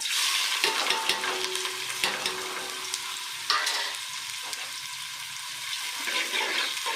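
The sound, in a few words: onions frying in pot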